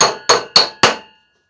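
Four hard, evenly spaced strikes from a quality hammer being tested land close and loud, each one a sharp clang with a short ringing decay, followed by silence.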